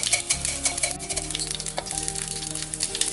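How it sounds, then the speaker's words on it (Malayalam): Mustard seeds sizzle and crackle in hot coconut oil for a Kerala sadya kurukku kalan tempering, a steady close frying hiss with small pops throughout and no voices. "അതിലേക്ക് കടുക് ഇടാണ്."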